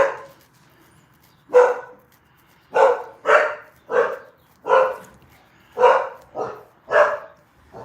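A dog barks indoors in a run of about eight loud, evenly spaced woofs over several seconds, close to the listener, with no talking in between.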